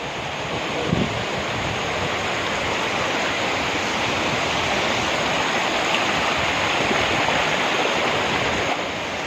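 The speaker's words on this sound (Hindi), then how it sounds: "ये वो तीसरा पॉइंट है जहाँ से जो तीसरा नाला है वो बाज़ार में एंट्री हुआ है" Floodwater rushes loudly and continuously through a drain into the Thunag market after a cloudburst, a dense, unbroken roar with no speech.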